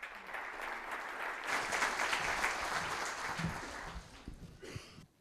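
A conference audience at an energy geopolitics event in Turkey claps as a speaker is called to the stage. The applause is dense and sustained, with many hands close and loud, then thins into scattered claps before stopping.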